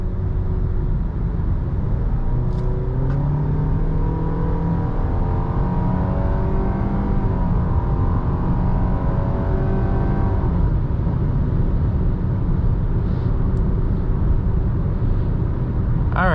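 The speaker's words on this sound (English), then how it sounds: "We're gonna take this car on the highway, see what that's like." A 2020 Nissan Sentra accelerates onto the highway, heard from inside the cabin: engine note climbing steadily through rising revs, with a constant loud road roar and no talking.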